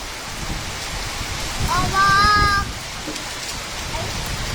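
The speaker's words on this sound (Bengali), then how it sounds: "ব্যালকনিতে আমরা বৃষ্টি উপভোগ করতেছি" Heavy rain falling steadily on a balcony, a continuous close hiss, with a brief higher-pitched chirp or voice sound in the middle.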